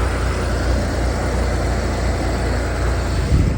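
A 1965 Chevy Corvair Monza convertible's 110 horsepower engine runs steadily up close, a continuous low rumble with an even drone and a slight bump near the end.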